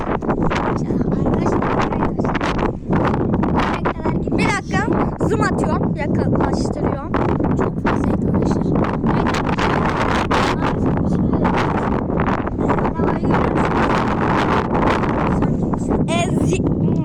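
Strong wind roars and buffets the microphone nonstop, with a person speaking briefly through the gusty noise.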